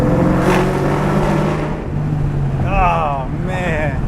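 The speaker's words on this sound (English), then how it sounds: "Long tubes and Borlas on Terminators, you can't go wrong with it." A supercharged Ford SVT Cobra Terminator with long-tube headers and a Borla exhaust drones and revs nearby, with a steady engine note that shifts pitch, and someone talks over it in the second half.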